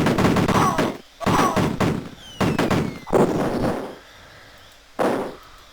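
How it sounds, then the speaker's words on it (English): A roof blowing apart in the Amiga game Cannon Fodder, heard as a run of sharp retro explosion bursts, about five loud blasts with short gaps of quiet between them. "That exploding roof would kill you if it hit you."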